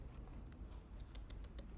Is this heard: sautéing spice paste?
no